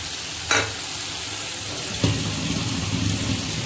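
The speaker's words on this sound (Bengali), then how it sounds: "আমি এখানে ঘুগনির মশলাটা কষাচ্ছি।" Ghugni spice masala with tomato, onion, ginger, garlic and soaked ground cumin, coriander and chilli sautéing in a pan, giving a steady soft sizzle with a couple of brief stirring scrapes.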